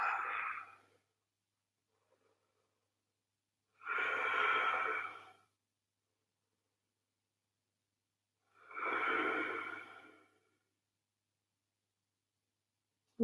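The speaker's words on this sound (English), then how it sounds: "Deep breathing." Deep pranayama breaths during a yoga flow, resting in child's pose: three slow, long inhalations or exhalations spaced several seconds apart, soft and close, with silence between them.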